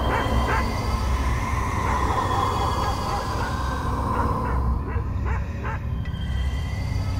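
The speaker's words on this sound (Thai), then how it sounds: "หมาก็เห่าอีกเห่าไม่หยุด" A dog barks again and again in short bursts, mid-distance, over a dense, steady background of noise and low rumble during a ghost story.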